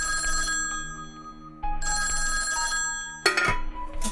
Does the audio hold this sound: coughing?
no